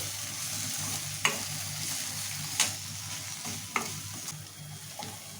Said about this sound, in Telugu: ఇప్పుడు ఇది కూడా పచ్చివాసన పోయే వరకు ఫ్రై చేసుకోవాలి